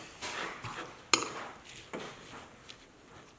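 Salad dressing with chopped shallot and kaffir lime being mixed in a bowl, giving soft scraping and a single sharp clink of a utensil against the dish, close and fairly quiet.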